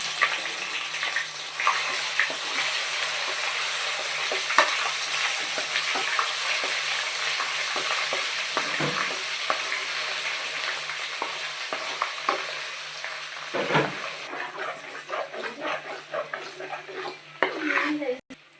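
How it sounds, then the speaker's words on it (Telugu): Ginger garlic paste sizzles and crackles in hot oil for a long stretch, a dense close frying hiss broken by occasional stirring scrapes against the pan, with a voice speaking now and then. "అదే ఆయిల్లో మనం ఫస్ట్ అల్లం వెల్లి పేస్ట్ ముద్ద వేసుకోవాలండి కొంచెం ఏగాలి"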